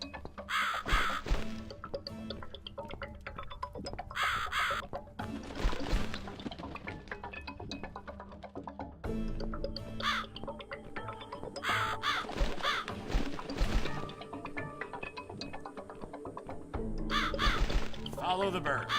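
Harsh crow caws from a dark horror adventure game ring out in repeated bursts over an eerie ambient score, loud and close, with a voice speaking briefly between them.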